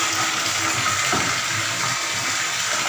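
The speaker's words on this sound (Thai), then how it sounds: "เติมน้ำก่อน" Water pours steadily into a container being refilled, a continuous close rushing splash with no voices.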